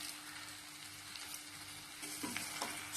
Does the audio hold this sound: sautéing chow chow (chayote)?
yes